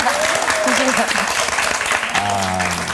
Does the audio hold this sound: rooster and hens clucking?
no